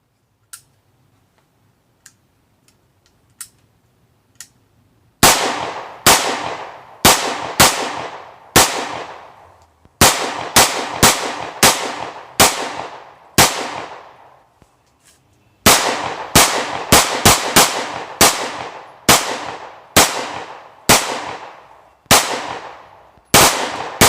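A Sig MPX Copperhead subcompact PDW fires loud, sharp shots in quick strings of several rounds with short pauses between strings, preceded by faint clicks and handling noise.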